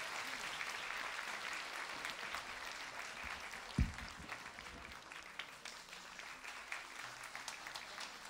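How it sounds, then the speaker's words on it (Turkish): An audience applauds at a Roma orchestra concert, sustained clapping from a seated crowd heard at moderate distance, fairly faint with a single louder thump partway through and some murmuring beneath. "Ve bu bölümde son olarak alkışların en yükseğini sizlerden rica ediyoruz"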